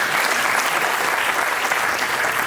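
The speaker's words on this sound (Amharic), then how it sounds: "እስኪ ለመሲ ጭብጨባ ያስፈልጋል።" Dense, steady applause from a crowd celebrating Mesi at a family gathering marking a 25th wedding anniversary and graduation, loud and close, filling the whole moment without pause.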